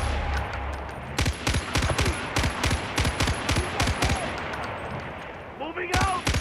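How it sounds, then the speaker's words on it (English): Rapid bursts of gunfire crack out in Far Cry 4, sharp repeated shots in uneven clusters over a noisy battle backdrop, with a voice briefly shouting near the end. "All of you, gunfire."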